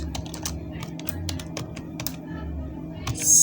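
Someone types on a computer keyboard while designing a restaurant poster in PowerPoint. Quick, uneven runs of close, crisp key clicks sit over a low steady hum.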